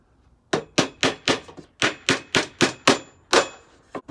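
Hammer blows drive nails into the wood of an 81mm ammo crate being built into a DVD rack, about eleven sharp, loud strikes in a steady rhythm with short gaps, close by and with no talk.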